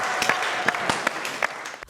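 Studio audience applause on a Georgian Saturday TV show, a steady wash of clapping with a few sharper individual claps standing out, moderately loud and continuous throughout.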